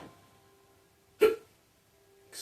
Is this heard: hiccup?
yes